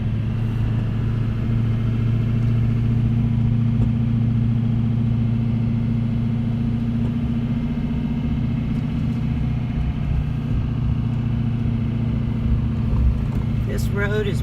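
A one-ton pickup truck towing a fifth-wheel trailer drives a narrow, winding stretch of Highway 1 near Fort Bragg, its engine producing a steady low rumble with road noise throughout, close and continuous.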